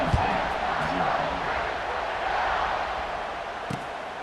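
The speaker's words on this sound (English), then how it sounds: "this crowd is buzzing after that last score" Stadium crowd noise from a Michigan State versus Ohio State college football video game, a steady dense roar and murmur of many voices swelling after a score, continuous and fairly loud throughout.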